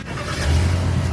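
A 2018 Jeep Grand Cherokee V8 with all-wheel drive gives a deep, steady engine rumble that swells in at mid-clip and holds close and loud, with no talking.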